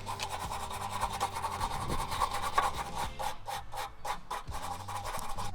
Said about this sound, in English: I've got a wire brush, an electric one is much better, but just start taking off any rust and grime as best as you can.